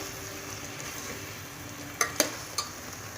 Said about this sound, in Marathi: आता यात आपण मटण घालून घेऊ मध्ये मस्त असं मटण परतून घ्यायचं आहे